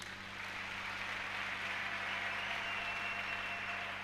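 A church congregation applauds during a worship service, a steady wash of many hands clapping that stays level and fairly distant throughout.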